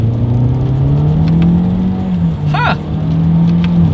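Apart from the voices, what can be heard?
2023 Toyota Corolla Hatchback accelerating in manual shift mode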